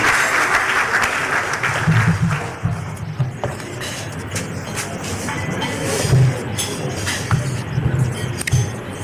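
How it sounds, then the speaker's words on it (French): An audience at a seminar gathering applauds, with sustained clapping of many hands that swells and lingers for several seconds, with faint voices mixed in. "Avec nos applaudissements,"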